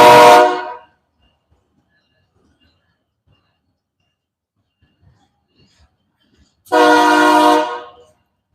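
A passing train sounds its horn in two loud, sustained blasts, one at the start and another after a long stretch of near silence.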